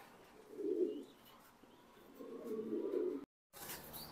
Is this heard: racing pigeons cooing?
yes